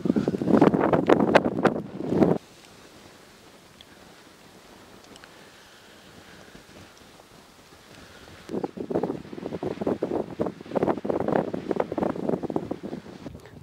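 Cold spring wind blows hard across the microphone in the southern part of the country, loud roaring gusts at the start and again through the second half, with a calm, quiet lull between them.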